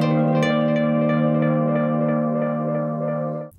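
Electric guitar chords through a Universal Audio Galaxy tape echo pedal, a sustained, shimmering tone with repeating, smeared echoes that ring on before cutting off abruptly near the end.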